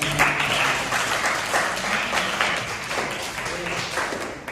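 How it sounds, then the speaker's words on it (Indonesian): Students in an Indonesian classroom applaud together, a steady patter of many hands clapping at moderate loudness for several seconds, with faint voices murmuring beneath. "terima kasih tepuk tangan saudara"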